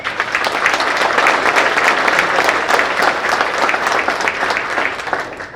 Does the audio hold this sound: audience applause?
yes